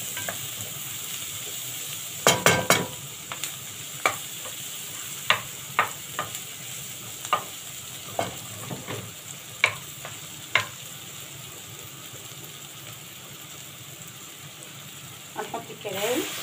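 Kidneys and garlic sizzle in a frying pan as a utensil scrapes and stirs them, with a steady low sizzle under a dozen or so sharp clatters spaced unevenly, close and fairly quiet.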